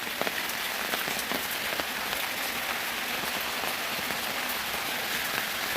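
Heavy rain pours down without pause, a dense, steady hiss of drops hitting surfaces, with wind in the mix during a downpour that has lasted two days. Nobody speaks.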